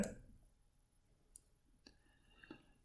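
Sharp, faint mouse clicks in a quiet room, a couple of isolated taps spaced about half a second apart with no talking over them.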